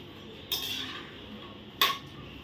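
Fried nuts such as cashews, almonds and pistachios, toasted in ghee for fenugreek laddoos, are moved from a pan onto a plate. Two short metallic scrapes and clinks ring out about a second apart over faint background hiss.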